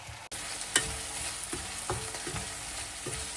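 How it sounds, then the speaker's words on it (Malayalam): Sliced onions with salt fry steadily in a pan, giving a loud continuous sizzle broken by several soft knocks and scrapes of stirring, with no talking. "ചെറിയൊരു ഗോൾഡൻ കളർ വരുന്നത് വരെ നമ്മൾ സവാള ഒന്ന് ഇതാക്കാൻ നോക്കണം"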